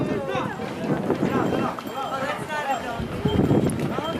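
Donkeys move quickly along a trail, their hooves clip-clopping amid a jumble of voices as people talk and call out nearby.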